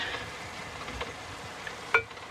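Garlic frying in a pan for tarragon chicken, a steady faint sizzle throughout, with a brief sharp clink or scrape of a utensil near the end.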